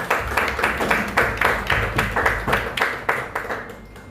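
A crowd at a Hindi-language keynote event gives the arriving speaker a welcome of close, rhythmic clapping that pulses steadily for a few seconds before easing off.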